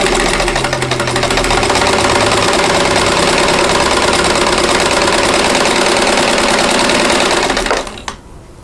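A sewing machine runs steadily while stitching 5-inch quilt fabric strips for a diamond four-patch quilt: loud, close, continuous rapid needle hum for about eight seconds before stopping abruptly, with no talk.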